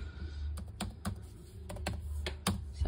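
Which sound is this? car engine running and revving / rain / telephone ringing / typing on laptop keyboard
typing on laptop keyboard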